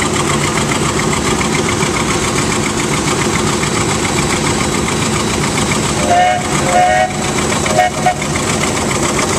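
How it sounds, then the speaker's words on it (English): Heavy, droning engine rumble at an antique engine show with an 1895 Frick, as a freight train comes in, with brief whistle-like tones rising near the end, loud and continuous. "Another freight coming in."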